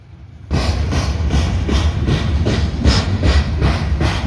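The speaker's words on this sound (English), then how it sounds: "This train's DPU was extremely vocal, and by that I mean it was very, very loud." Freight train passing loudly with a vocal distributed power locomotive, a sudden loud onset of heavy rumbling and rhythmic rail clatter sustained close by.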